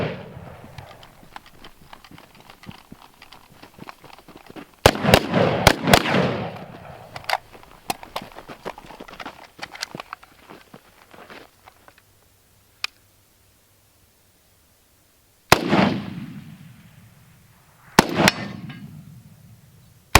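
A Springfield Armory SOCOM 16 rifle with a muzzle brake fires several sharp, loud shots outdoors, some in quick succession and others spaced apart, each trailing off in a brief echo, with clattering and metallic clicks between them.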